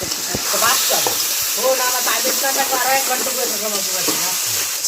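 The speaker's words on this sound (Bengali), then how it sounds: "জিরাটা চিরবিড়িয়ে ফুটে উঠলে ধুয়ে নেওয়া আতপ চালগুলো দিয়ে দিচ্ছি" Washed rice and whole cumin seeds frying in hot oil, a dense steady sizzle with scraping stir strokes and short squeaky utensil sounds, close up.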